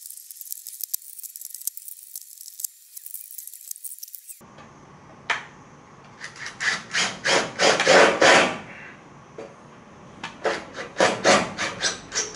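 Garage roof panels being cut by hand, with a silent stretch first, then bursts of rough rasping, sawing strokes in a steady rhythm, close and fairly loud, pausing and resuming.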